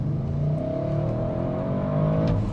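A 2021 Audi RS 6 Avant pulls hard off a launch, its engine note climbing steadily and loud for a couple of seconds from inside the cabin, with no voices over it.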